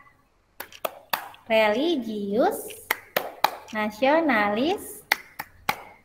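A class performs a rhythmic clapping chant in which sharp, regular hand claps mark a steady beat between sung phrases, and the voices take turns with the claps.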